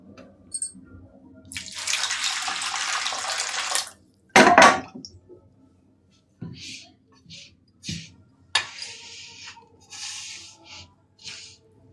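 Water splashes steadily into dough for Guntur-style tapala chekkalu rice crackers with soaked chana dal, in one pour of about two seconds, followed by a loud clatter of utensils and a few softer knocks.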